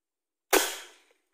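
A spray-type PVC toy gun fires a marble with one sharp, loud bang that rings out briefly and fades within about half a second, with no voices.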